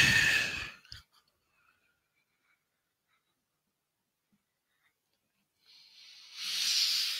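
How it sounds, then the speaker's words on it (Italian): A long, airy exhale out through the mouth during a guided breathing exercise, a broad breathy rush at the start, silence, then another breath swelling near the end, close and soft with no talking. "Adesso buttatelo fuori dalla bocca."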